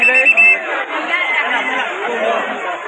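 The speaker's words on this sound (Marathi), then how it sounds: "एवढी गर्दी भरली आहे तुफान गर्दी आहे एकदम" Dense festival crowd at the Kunkeshwar temple fair by the seashore, a packed mass of overlapping voices chattering loudly and continuously, close around without a break.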